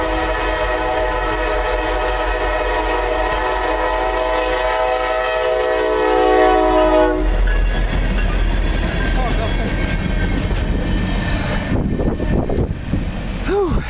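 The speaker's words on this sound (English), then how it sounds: "They got this local train P36." Norfolk Southern local freight P36 led by SD40E locomotive 6350 rolls southbound through Rock Hill, South Carolina, on the R-Line, sounding a long loud horn before the heavy rumble and clatter of passing cars takes over.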